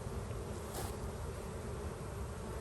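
Italian honey bees buzz steadily and close up during a hive inspection, a dense continuous drone with no pauses and no voices.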